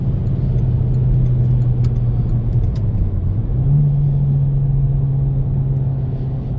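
Renault Laguna Coupé 4Control with its turbo engine, heard from inside the car as a steady, loud low drone that dips briefly and then settles at a slightly higher pitch.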